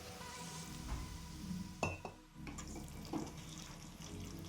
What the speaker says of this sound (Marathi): त्याच्यामध्ये थोडं पाणी घालून घेऊया.